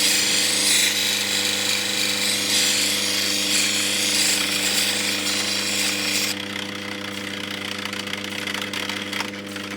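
A grinding wheel cuts and shapes a natural Ethiopian opal: a loud, continuous whirring grind with a steady motor hum, easing slightly partway through, with no voices.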